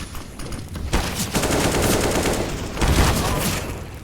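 AWP sniper rifle fire in a Counter-Strike match, loud game gunfire with sharp shot bursts near the one and three second marks over continuous battle noise.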